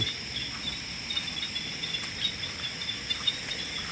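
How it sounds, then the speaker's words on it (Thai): Night chorus from a flooded rice field after heavy rain, with steady insect-like trilling and faint scattered croaks from frogs spread across the paddy, moderately quiet and continuous with no talking. "ได้ยินเสียงกบ"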